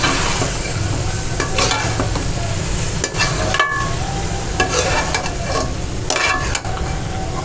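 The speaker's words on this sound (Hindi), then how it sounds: "अब हम इसको भी हिलाएंगे," Tomatoes, capsicum and onion fry in a pan while being stirred, a constant close sizzle broken by repeated scraping and clattering strokes of a spoon against the pan, with no voices.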